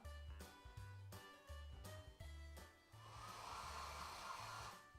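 Hair dryer blowing on a small chihuahua-type dog, a steady close airy roar that runs throughout, broken by short rhythmic dips in level and a brighter blast toward the end.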